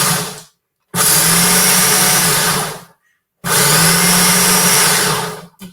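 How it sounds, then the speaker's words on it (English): A food processor grinds roasted pumpkin seeds in two loud bursts of whirring motor noise, each lasting about two seconds, separated by short silences, with a third start at the very end. "So I've got the pumpkin seeds already roasted in my food processor."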